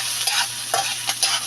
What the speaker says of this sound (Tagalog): haluin natin ng konti